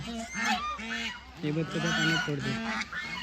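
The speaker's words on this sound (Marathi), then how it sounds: "खूप सारे बदक" A flock of ducks calls nearby in loud, nasal honking bursts, several birds overlapping in quick rhythmic runs with short pauses.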